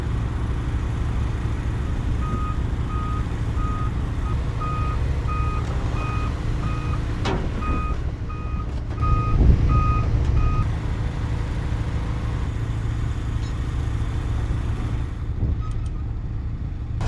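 A truck backs up with evenly spaced electronic reversing beeps, sounding in two bursts over a steady diesel engine rumble, with a louder engine swell midway through, on a sewer installation job site.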